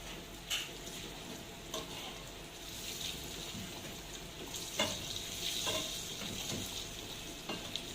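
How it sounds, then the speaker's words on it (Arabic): Breaded cutlets sizzle steadily as they fry in hot oil in a pan, a constant crackling hiss broken by occasional sharper pops and clicks, fairly close with no voices. "نقلي الباقيين ونشوفهم مع بعض"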